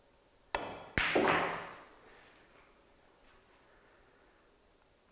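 A cue strikes the cue ball in an eight ball pool practice drill, one sharp close click followed by a second knock and a short fading rattle, then quiet room tone.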